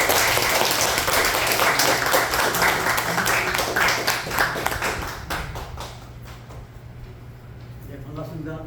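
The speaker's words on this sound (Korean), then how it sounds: "우리 큰 박수로 환영하겠습니다" An audience applauds a missionary walking on stage at a church gathering, dense sustained clapping that fills the room for several seconds and then thins out as a voice begins to speak.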